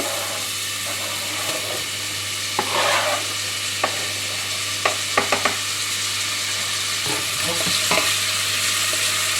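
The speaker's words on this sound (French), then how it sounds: "dès que c'est chaud, j'y mets les oignons" Sliced onions dropped into hot oil in a pan, a loud, steady sizzle with a brief burst of spitting and several crisp utensil taps and scrapes, close by and with no voices.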